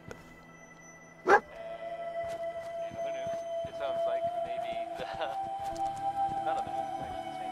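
In the video game Fallout 4, the dog Dogmeat lets out a single loud, close bark early on, then game noises and a steady tone continue underneath while a man chatters.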